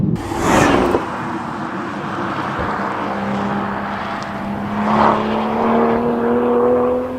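A 2021 Toyota GR Supra 3.0 accelerating from inside the cabin, its engine note climbing steadily in pitch through a long pull, then surging again toward the end, loud and close with no talking.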